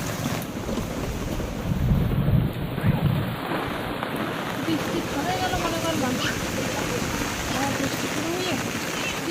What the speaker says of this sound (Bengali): প্রচুর পরিমাণে বৃষ্টি হচ্ছে